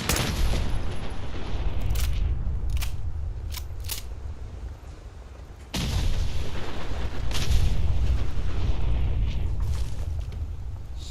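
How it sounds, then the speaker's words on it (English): Explosions in the video game Fallout 4: repeated heavy booms and sharp blasts roar back to back, with a brief lull before the barrage swells again, loud and close. "Explosions."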